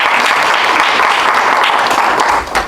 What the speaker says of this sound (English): Can everyone please give her a round of applause?